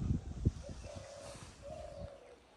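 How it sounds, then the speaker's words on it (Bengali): A dove coos in a misty winter-morning field beside a small canal, its soft, low calls repeating a few times at moderate distance over faint rustling and light thumps. "ঘুঘু ডাকছে।"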